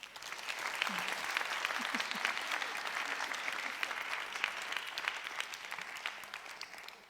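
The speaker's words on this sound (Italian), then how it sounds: "Applauso." An audience at a Neapolitan talent show evening claps for a contestant, a full, sustained round of applause with a few voices calling out early, steady through to the end.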